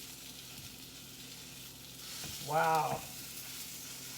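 Maple sausage sizzles steadily in a frying pan for a breakfast casserole, a continuous crackling hiss throughout, with a brief voiced exclamation partway through.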